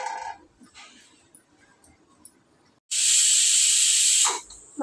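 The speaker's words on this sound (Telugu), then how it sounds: "మటన్ అయితే ఒక విజిల్ వచ్చింది." A pressure cooker with mutton curry gives one loud, steady whistle of escaping steam lasting about a second and a half, close by after quieter kitchen sounds, then stopping abruptly.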